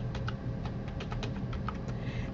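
Quick, close typing on a computer keyboard while entering a formula in a Microsoft Excel spreadsheet, a steady patter of light key clicks.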